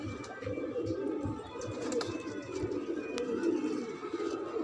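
Pigeons coo softly and continuously in a low, throaty murmur, several birds overlapping close by.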